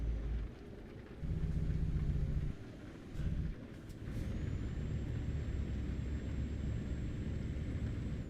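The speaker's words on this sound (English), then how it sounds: "This thing's retarded down through the gears." A Renault T truck slowing with its retarder engaged while dropping down through the gears, heard as a loud, steady low rumble with shifts in engine tone and a thin whine rising above it.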